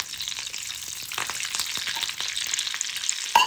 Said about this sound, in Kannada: ಒಗ್ಗರಣೆ ರೆಡಿ ಆಗ್ತಾ ಉಂಟು